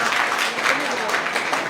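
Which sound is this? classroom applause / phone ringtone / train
classroom applause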